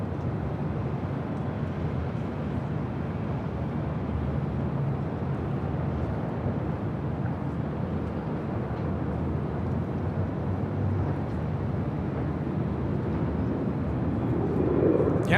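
A WestJet Boeing 737-800 bound for Calgary takes off from runway 24 left at LAX, a steady, moderately distant jet roar holding broadband rumble throughout and swelling slightly louder near the end, with no talk over it.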